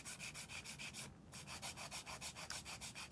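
A 100 grit nail file worked back and forth across a nail, giving a steady rhythmic rasping of about a dozen quick strokes with one short pause, close and quiet, without talk.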